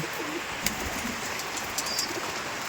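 Pet pigeons give faint, soft low coos against steady background noise on a rainy day, with a few brief clicks or flutters and no one speaking.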